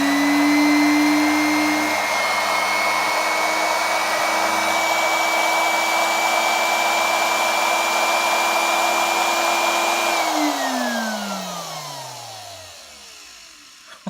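A Hoover Junior 1346a vacuum cleaner motor, temporarily wired and lying on its side on a bench, runs with a steady loud whine and hum, then switches off and winds down smoothly, its pitch sliding away to near silence.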